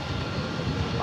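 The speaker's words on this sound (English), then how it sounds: "Here comes that A300, so we'll get a good look at that as it" A 19-year-old Airbus A300 jet taxis in to park at Dallas Fort Worth airport, its engines giving a steady, broad, loud roar with no break.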